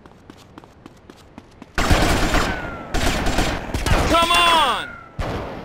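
Rapid bursts of gunfire in a GTA: Vice City Stories PS2 mission, loud and close, arriving in dense volleys with shouted voices between and over the shots.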